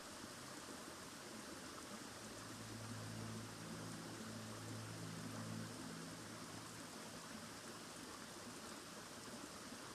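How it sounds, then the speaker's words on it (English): Waterfall rushing with steady whitewash spray, a constant broadband roar with a low rumbling undertone, moderately loud and unbroken, with no voices. "You can see the spray, hear the sounds, the whitewash sound of waterfall"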